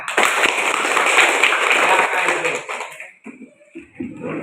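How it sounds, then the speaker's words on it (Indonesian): A class of students claps hands together in a loud, close burst of dense clapping that fades out after about three seconds, followed by scattered quieter sounds and faint voices. "tepuk tangan"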